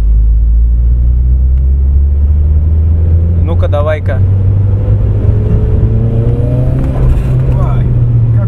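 A home-built car's engine rumbles loud and close on its first drive, with the revs climbing and falling while people talk inside the cabin.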